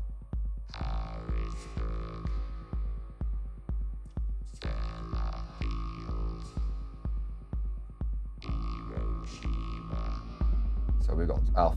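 A vocoder synth part played on iPad synths in a recreation of a song, steady sustained tones over a regular throbbing low pulse, ending in a brief noisy swell.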